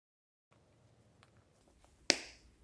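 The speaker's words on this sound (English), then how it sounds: "This one has the push button." A single crisp click of the push-button closure on a Chanel Classic belt bag 22B snaps shut close by, after a moment of faint handling rustle.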